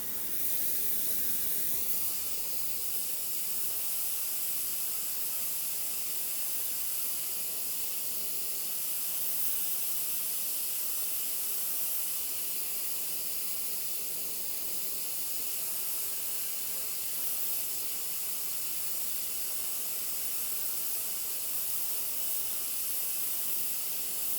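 A torch heats a large copper A/C pipe with a steady, loud hissing roar of burning gas, constant and close throughout with no talk.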